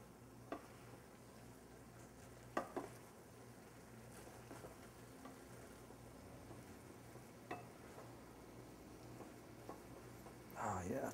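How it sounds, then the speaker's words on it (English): A pot of bigos stew simmers with a soft, low bubbling and hiss, faint and continuous, broken by a few light clicks of a stirring utensil and a brief scrape at the end. "I see our bigos bubbling away here"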